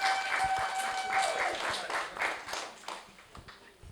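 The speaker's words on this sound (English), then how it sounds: "Give her a round of applause." Audience applause welcomes a performer back to the stage at a spoken-word poetry event about Windrush, moderately loud clapping from a modest crowd that thins and fades out over a few seconds.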